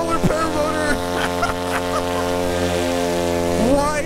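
A loud AliExpress paramotor engine runs steadily in flight, a sustained droning buzz with strong harmonic tones that holds through the whole stretch, with brief vocal bursts at the start and end.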